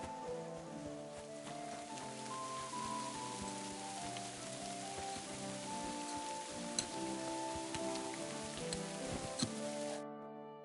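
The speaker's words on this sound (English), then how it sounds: "It'd be better if it wasn't raining, though." Steady rain patters without a break in the video game Kingdom Come: Deliverance II, with a low droning tone and soft musical notes beneath it, and a couple of faint sharper drips.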